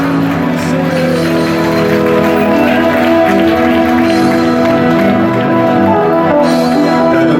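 A large gala audience applauds and cheers committee members of the AEJJR association gathered on a dance floor, a dense continuous wash of clapping with crowd voices and a tonal music-like hum underneath, loud throughout.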